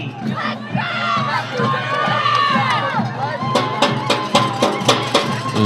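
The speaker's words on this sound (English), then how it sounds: "Gopher crowd is getting loud again." A Minnesota Gopher football crowd at the 2022 Gila River Bowl roars loudly and continuously, with shouts and cheers swelling throughout, broadcast commentators faintly talking underneath.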